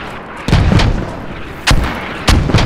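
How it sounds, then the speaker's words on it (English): Mortar rounds fire in the Squad military video game as three loud, heavy booms spaced about a second apart, each decaying with a rumbling tail, close and with no talking. "Hold off on the mortars, hold off on the mortars."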